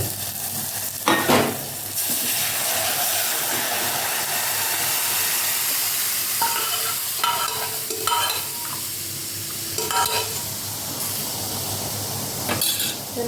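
Urad dal tipped into a sizzling tempering in a pan, a loud steady frying hiss with bursts of crackle and a few stirring scrapes, no voices.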